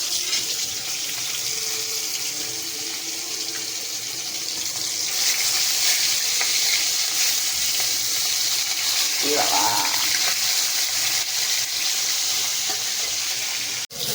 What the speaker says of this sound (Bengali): তো মাছটা ভাজা হচ্ছে, অ্যাজ ইউ ক্যান সি